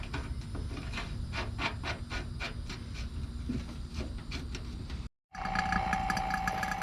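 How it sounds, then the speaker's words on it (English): A vacuum pump runs steadily while evacuating a mini split AC system on a race trailer, giving a loud, continuous mechanical drone with rhythmic pulsing, then cuts out briefly before resuming with a higher whine. "I am pulling a vacuum with the pump on the system."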